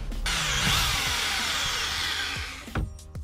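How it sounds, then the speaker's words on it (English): A power drill bores a hole into a camper van's bed frame, a steady high whining spin close to the microphone that winds down near the end with a few clunks. "I just need to drill a hole now."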